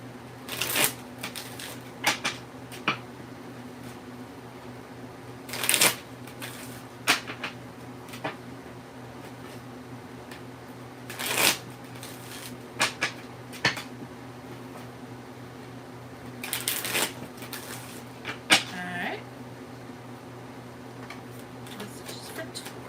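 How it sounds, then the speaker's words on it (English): Tarot cards being shuffled by hand in a quiet room during a live weekly reading, heard as several short papery riffles and bursts spread across the clip with pauses between them. "Okay, so you guys heard me shuffle those."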